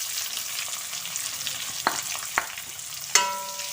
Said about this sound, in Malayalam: ഇനി ഇതിലേക്ക് അരിഞ്ഞു വെച്ചിട്ടുള്ള സവാള ഇട്ട് കൊടുക്കാം.